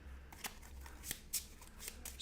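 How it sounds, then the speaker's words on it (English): A deck of cards for the Twilight Struggle board game by GMT Games is shuffled by hand, giving soft, quick riffling flicks and papery snaps in an irregular rhythm, quiet and close. "So let's shuffle this up."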